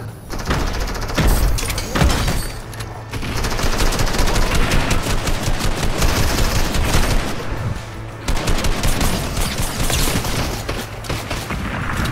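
Dense, loud gunfire and explosive rocket-launcher blasts in the video game Fortnite, near and continuous with rapid overlapping shots and booms filling the whole stretch, briefly dropping out a couple of times.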